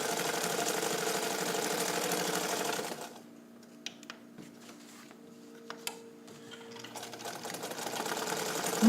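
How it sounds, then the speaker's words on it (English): A restored all-metal vintage Necchi BU Nova sewing machine stitches through thick, heavy upholstery fabric, a steady close mechanical whir for a few seconds, then a quiet pause with faint clicks before the motor starts up again. "the machine is going to sew right through it"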